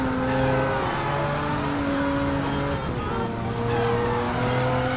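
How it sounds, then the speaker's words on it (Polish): Nissan 370Z drift car in Driver San Francisco sliding with a sustained tire squeal over a steady engine hum, loud and continuous, with no voices. "Jechałem dość wolno, a samochód naprawdę długo trzymał drift."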